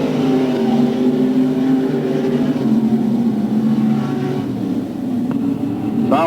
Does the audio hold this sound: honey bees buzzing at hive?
no